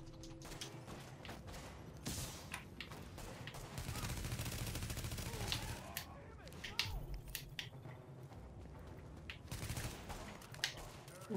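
Rapid gunfire in The Division, quick cracking bursts and single shots spread throughout, mixed with clatter and game effects at moderate loudness.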